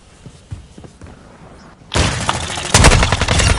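Gunfire in Call of Duty Modern Warfare 2 multiplayer: faint scattered shots and thuds first, then loud sustained bursts of rapid automatic fire in the second half.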